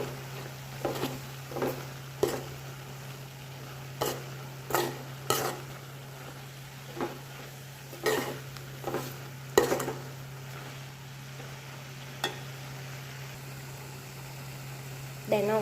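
Ground coconut mixture stirred into jackfruit mallum in a pot: regular soft scraping strokes of a spoon, about one every second or so, close by over a steady low hum, with no talking.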